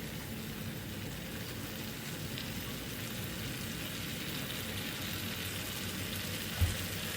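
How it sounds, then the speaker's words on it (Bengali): Eggs and tomatoes sizzle in a pan, giving a steady, soft hiss of frying that holds evenly for several seconds, close but fairly quiet, with a single small knock near the end. "ডিমের সঙ্গে টমেটোকে আমি মিশিয়ে নিচ্ছি।"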